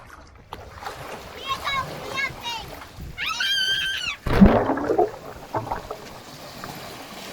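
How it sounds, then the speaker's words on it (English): A sudden splash of a camera dropping into sea water breaks through midway, preceded by faint outdoor background and high, chirping vocal sounds. "It feels so counterintuitive to throw a camera in the water, but here goes."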